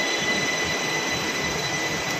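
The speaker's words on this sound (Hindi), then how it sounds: "मेट्रो का वेट कर रही हूँ" A metro train rumbles at a station in Delhi while someone waits on the platform, with a steady, loud broadband roar that holds evenly throughout and no voices.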